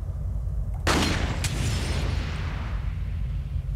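One loud explosion in Resident Evil 4 erupts suddenly with a sharp crack and a deep rumble, followed by a second quick burst, then a long rolling roar that slowly fades over a heavy low background drone.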